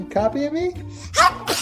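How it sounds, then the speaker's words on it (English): A baby's sneeze, two quick breathy bursts close together, follows a short spoken phrase from an adult, all close to the listener. "Oh, no, you're the sneeze champion now."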